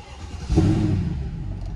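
A Mercedes CLK 63 AMG engine fires up with a push-button start: a quick surge half a second in, then it settles into a deep, steady idle, close and loud.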